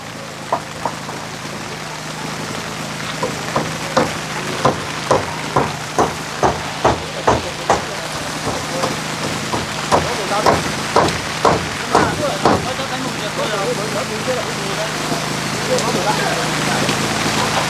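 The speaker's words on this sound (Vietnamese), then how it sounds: "Mưa thì càng ngày càng dày hạt." Heavy rain pours in a dense, continuous hiss at a house under construction, with a series of regular knocks cutting through and voices talking underneath.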